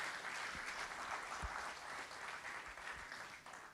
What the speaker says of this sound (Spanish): dale tu fuerte aplauso a Él